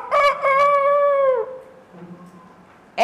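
A single rooster crows loudly and close by, the drawn-out call holding steady for over a second before dropping off into quiet.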